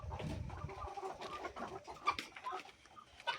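Chickens clucking close by, a busy overlapping mix of short clucks and murmuring calls with a few sharper squawks, lively and continuous for a few seconds.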